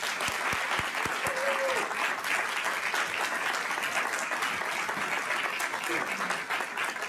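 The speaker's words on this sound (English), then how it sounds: "Can we give them a big round of applause?" A school governing board meeting audience gives students a round of applause for their festival accomplishment; steady, dense clapping fills the room, with a few sharp individual claps at the start and faint voices underneath.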